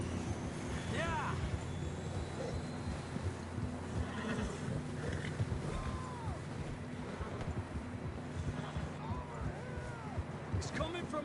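Horses neigh and whinny in a Red Dead Redemption 2 ride, several short calls rising over steady wind and hoof clatter, with people speaking throughout.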